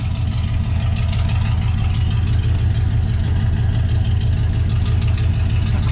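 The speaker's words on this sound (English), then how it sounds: "So I'll rev it for you guys." A Chevrolet C20 truck engine revving, a loud, close, steady low rumble holding throughout without pause or voices.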